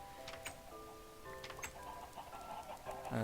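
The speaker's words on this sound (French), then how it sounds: "c'est une des fermes. Voilà. Avec un élevage intensif de poulets." Chickens in an intensive chicken farm on a Minecraft server cluck in short, scattered calls, heard fairly close against a steady game background.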